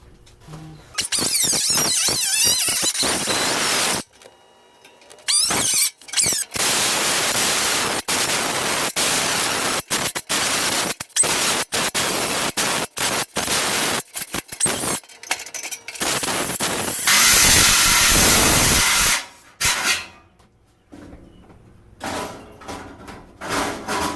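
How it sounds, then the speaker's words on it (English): A cutoff wheel slicing sheet metal for a vehicle dash, a loud, harsh, continuous grinding hiss in long bursts broken by brief pauses and a few clinks, with no speech. "I got my cutoff wheel and some earplugs, so let's get going."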